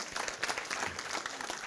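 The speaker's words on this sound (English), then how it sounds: "Clap it up" Brief burst of audience clapping during a real estate coaching seminar, scattered, uneven claps from a moderately distant crowd lasting under two seconds.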